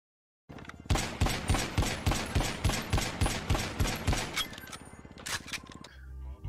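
Rapid pistol fire from a WM29 pistol in GTA Online, a burst of about a dozen sharp, evenly spaced shots ringing out loud and close, followed by a few more scattered shots and a brief tail.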